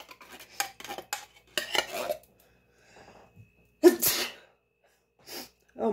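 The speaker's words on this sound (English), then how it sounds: "Oh, I think I'm going to sneeze." A single sharp sneeze, brought on by pepper, bursts out midway, surrounded by clinking dishes and utensils and brief muffled kitchen sounds.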